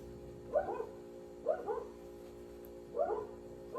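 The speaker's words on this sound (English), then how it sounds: "Can you hear the dogs?" Dogs bark in the distance, three separate bursts of a few quick barks each, spaced roughly a second or more apart over a steady low hum.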